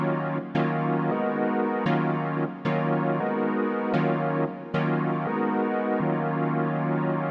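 Warm, lush deep house synth chords from REAKTOR struck in short repeated stabs, each sustaining briefly before the next, a steady pattern of chord hits with no voices.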